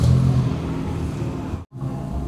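A 2013 Suzuki Ertiga automatic engine starts up, giving a loud, steady low rumble that cuts out briefly for a split second and then carries on idling.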